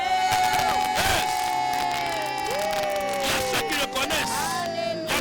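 Congregation in a French-speaking church service cheering and shouting in praise, a loud continuous crowd roar with whoops and raised voices throughout, over sustained music.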